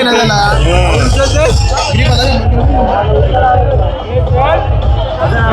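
A dense festival crowd at the Pen Koliwada Holi celebration in Maharashtra fills the air with loud babble, shouting and chanting voices overlapping close by, with someone talking through the din.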